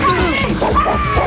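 A dog in a police-chase action film yelps and whimpers with sharp, yipping cries as it is thrown at someone, mixed with crashing and thudding impacts, all loud and close.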